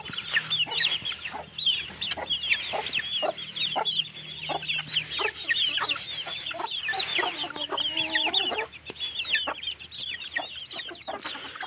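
A mother hen and her chicks cluck and cheep busily on a farm, with rapid overlapping peeps and a steady stream of clucks close by.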